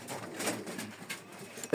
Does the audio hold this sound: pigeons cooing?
yes